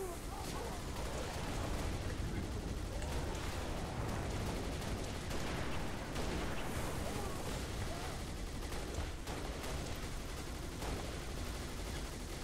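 Gun turrets firing in the Halo Reach video game, dense continuous bursts of gunfire and rumbling blasts that keep up without pause, a steady wall of battle noise throughout.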